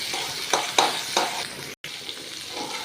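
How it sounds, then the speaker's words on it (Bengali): Ginger fries in a pan with other vegetables, a soft sizzle broken by several short scraping or stirring bursts and one brief dropout, moderately quiet and close. "আদাটা একটু ভাজা ভাজা হবে।"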